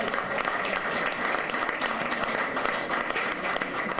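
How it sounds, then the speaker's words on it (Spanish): Audience applause at a national forum on federal budget support for transparency, a dense, steady wash of clapping from a crowd filling the whole clip without letting up. "Dense un fuerte aplauso,"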